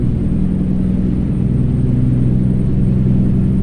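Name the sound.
Freightliner Coronado SD truck engine driving, from video game American Truck Simulator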